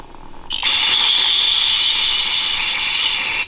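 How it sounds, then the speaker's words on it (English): A loud, steady hiss of aerosol brake cleaner spray runs continuously for about three seconds, then cuts off abruptly, sprayed into a Tillotson 212 go-kart engine. "I spray some brake cleaner to get all the chunky boys out"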